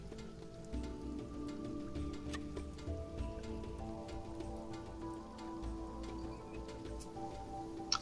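Rainfall in the video game Sheltered makes a faint, steady patter with scattered sharp drip ticks, heard quietly beneath soft tonal game music, with no talking.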